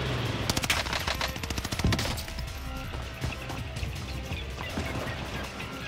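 Automaton gun in Warzone Pacific firing rapid bursts of automatic fire, loud and close, with layered game gunfire and impacts throughout and no talking.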